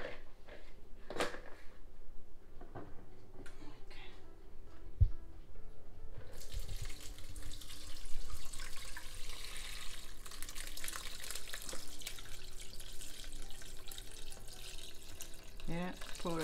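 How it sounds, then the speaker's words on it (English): Ginger wine pours and splashes into a plastic bowl in a steady, close stream, preceded by a few clinks and soft handling sounds. "So what we're going to do is pour all this into this plastic bowl."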